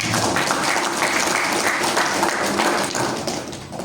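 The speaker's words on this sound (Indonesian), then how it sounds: "Tepuk tangan dulu untuk Basnas" An audience at the closing ceremony of a village-based Islamic scholar training programme in Riau applauds, a dense, steady round of clapping that tapers off near the end.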